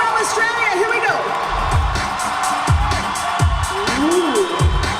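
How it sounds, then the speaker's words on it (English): Crowd whooping and cheering at a Christmas rhythm truck show, with rising voiced shouts over a steady busy hum and thumping low beats, loud and close. "I want everybody to give a round of applause for my ladies from Australia."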